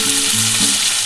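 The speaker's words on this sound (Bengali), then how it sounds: "আমি জল দিয়ে দিচ্ছি" Water poured into hot, sizzling masala in a pan for egg curry gives a loud, continuous hiss and spatter up close for about a second.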